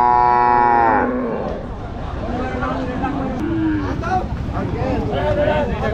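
A cow at a busy Qurbani cattle market gives a loud, drawn-out moo at the start. Outdoor crowd noise and wind follow, with people talking nearby.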